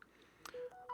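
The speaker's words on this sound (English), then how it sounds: "This phone is just endless today." A telephone sounds with a brief run of short, clean electronic tones that step up in pitch, heard faintly and close with no talking over them.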